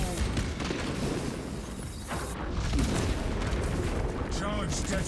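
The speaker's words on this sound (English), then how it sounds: "Charge detonated." Melter charge detonating in Space Marine 2, a loud rumbling blast amid continuous battle noise and gunfire, with a voice talking over it.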